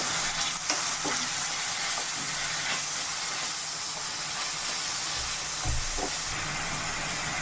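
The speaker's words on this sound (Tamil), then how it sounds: "வெங்காயம் நல்லா வதங்கி வரட்டும்" Onions with fennel sauté in hot oil, giving a steady, close sizzle and hiss with occasional soft stirring scrapes, and no voices.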